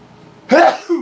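A single short, sharp sneeze bursts out close to the microphone in a quiet room, followed by a brief soft vocal trailing sound.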